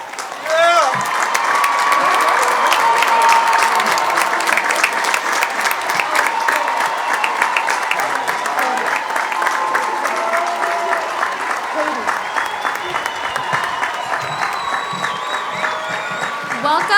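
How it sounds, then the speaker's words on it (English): A large audience at a Century High School class of 2021 commencement ceremony applauds the graduates in sustained, dense clapping with some cheering and whistles, holding steady and loud for the whole stretch. "Graduates, please stand and face our guests for a round of applause."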